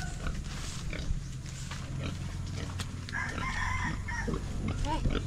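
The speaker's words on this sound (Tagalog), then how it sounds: "Hindi naman kalaking baboy ito." Farmyard animals on a farm lot for sale in the Philippines, with a pig grunting low under a rooster's crow and clucking fowl, all moderately close while people talk intermittently.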